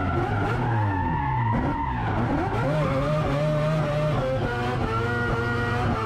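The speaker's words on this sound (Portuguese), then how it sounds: "Olha como vibra o chassi, dá pra ouvir o bagulho." A Mazda RX7 drift car with a four-rotor engine howls loudly and continuously from onboard at the Goodwood Festival, its revs rising and falling, its tyres squealing, and its chassis vibrating.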